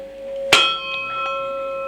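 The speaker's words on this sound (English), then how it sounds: "But this is just a mini gong" A small mini gong is struck once and its bright metallic tone rings on and slowly decays, with steady ringing partials continuing to the end and no talking.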